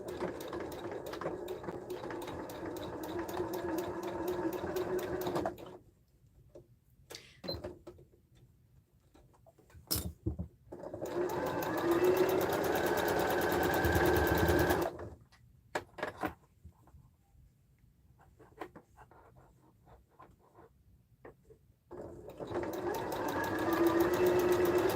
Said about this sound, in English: And we're sewing with that 1/2 inch seam